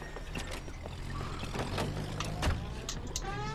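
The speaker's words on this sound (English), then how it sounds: "That's the car, Cole. Just pulling out of the drive." A car pulls out of a driveway in the crime game L.A. Noire, its engine a steady low rumble with broadband road noise and a brief swell partway through, heard close and continuous.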